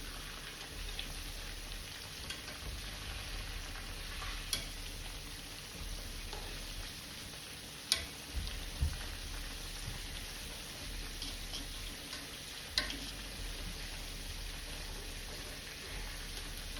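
Fish frying in oil gives a faint, steady crackling sizzle throughout, broken by a few soft clicks and knocks from handling in the pan.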